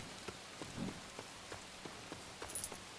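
Rain falls in LEGO The Hobbit, a steady hiss of drops with soft pattering taps spread evenly through the scene.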